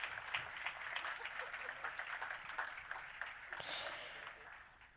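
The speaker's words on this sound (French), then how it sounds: "On peut les applaudir s'il vous plaît et remettre le trophée" Audience applause at the Com' en Or Trophy 2025 award ceremony, a steady wash of many hands clapping from a crowd, fairly distant and sustained, with a brief louder burst near the end.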